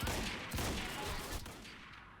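Rifle gunfire in Quantum Break: a dense, loud volley of shots at the start that trails off into a fading echoing rumble, with no talking.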